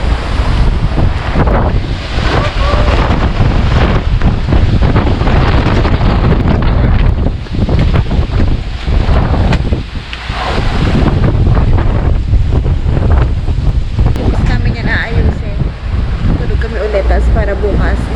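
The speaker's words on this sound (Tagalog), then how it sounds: "Malakas na hangin!" Strong wind sweeps through a car campsite in Tuba, Benguet, roaring and buffeting loudly against the microphone in continuous gusts that ease briefly before surging again.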